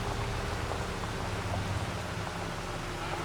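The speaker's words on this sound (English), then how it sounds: "Rainy day on the farm." Steady rain falls on an Iowa farm on a rainy day, a continuous dense hiss of drops hitting surfaces, even and unbroken throughout with no voices.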